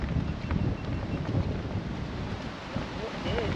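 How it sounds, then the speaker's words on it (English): Gale-force wind buffets the microphone on a golf course, a constant rough rumble and roar filling the whole stretch with gusty swells and no clear break. "All right, a lot of wind."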